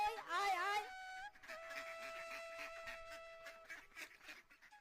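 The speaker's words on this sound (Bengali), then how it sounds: "ওরে বাবা, মিসকের হাঁসগুলো তো বেশ নাদুস নদুস" Domestic ducks or geese honking and calling close by, with a loud nasal cry at the start, followed by a sustained tonal call and scattered quieter squawks, while people talk.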